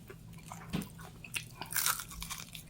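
Close bites into crunchy fried food such as chicken or onion rings, giving a few sharp crunches followed by quiet chewing at low volume.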